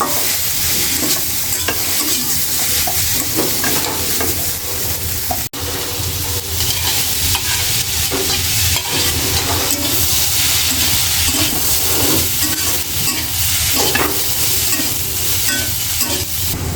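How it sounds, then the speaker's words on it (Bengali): Shira fish frying in a hot pan, a steady close sizzle with stirring scrapes throughout and no voices. "এই যে আমার শিরা মাছ ভাজি রয়ে গেছে"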